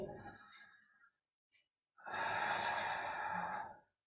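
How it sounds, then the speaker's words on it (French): During an intermediate Pilates session, a person breathes out audibly into a long, close, sighing exhale after a softer breath and a brief pause. "Une dernière respiration."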